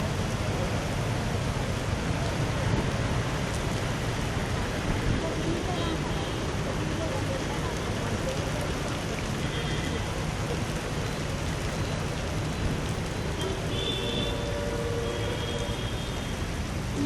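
Heavy cyclone rain lashing Chittoor District during Cyclone Vardha, a dense, steady roar of downpour that holds unbroken and loud throughout.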